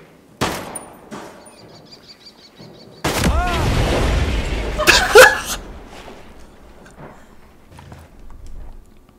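Shotgun blasts in the shooter game Ghost Recon Breakpoint, aimed at a barrel: a few sharp, loud reports with a sustained rumbling burst in the middle, then quieter scattered sounds trailing off.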